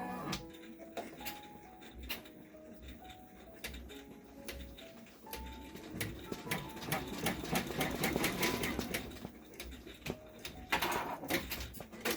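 Embroidery machine stitching out hanging tabs for an in-the-hoop zipper bag: rapid mechanical ticking and whirring in uneven bursts with brief pauses, close but fairly quiet.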